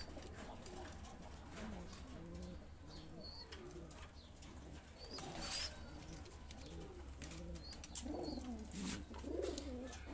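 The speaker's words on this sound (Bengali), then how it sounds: "এখানে আছে এই যে চীনা টেডি কবুতর আমার" Soft, low coos of Chinese Teddy pigeons in a breeding room repeat in a steady rhythm, several birds nearby, with occasional faint chirps and rustling over a constant background hum.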